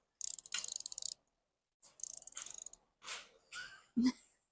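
Small wrench ratcheting beneath a 1983 Chevy Blazer, two quick bursts of rapid clicks close by, followed by a few softer scrapes and a dull knock.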